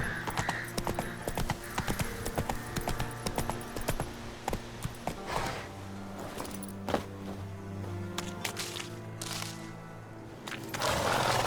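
Roach, Geralt's horse in The Witcher 3, trotting with rhythmic clip-clop hoofbeats close by, steady through most of the stretch, with a brief whinny and background game ambience and a voice briefly heard.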